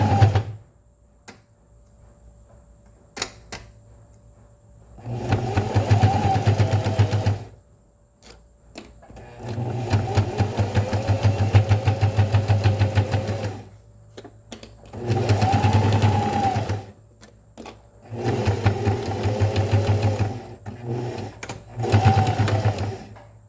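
A sewing machine with white all-purpose thread runs at a long 3–3.5 mm stitch length, sewing scrap fabric in several steady bursts of rapid, even stitching separated by short pauses, close and clear with no talk.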